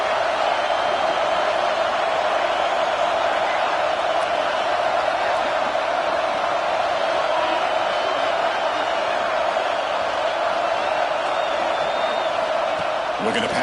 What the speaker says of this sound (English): And the crowd coming to life here